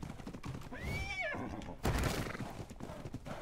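A horse whinnies in the ARK Survival video game, a rising then falling neigh near the middle of the clip over game noise, followed by a sharper burst of sound.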